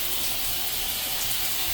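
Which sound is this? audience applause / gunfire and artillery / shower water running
shower water running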